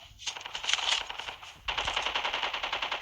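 Rapid automatic gunfire from Call of Duty Mobile, two long bursts of dense repeated shots separated by a short gap, loud and up close with no speech.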